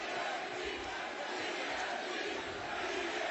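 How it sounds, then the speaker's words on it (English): Wrestling crowd at an AEW show cheering and chanting steadily, a dense, loud wall of voices that holds evenly throughout with no break. "Crowd staying behind Britt Baker here with that DMD. It's genius to use that as a nickname because it's very easy to chant"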